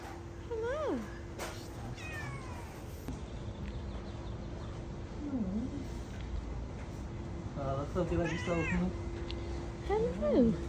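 Several cats in a cat house meow at intervals, some calls drawn out and rising, mid-distance over a steady background hum and faint ambient noise.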